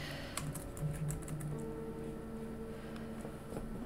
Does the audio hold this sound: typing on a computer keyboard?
yes